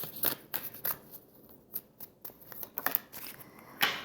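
Animal oracle cards are shuffled and drawn by hand, giving a series of soft, quick papery riffles and flicks, close and quiet, with brief pauses between bursts.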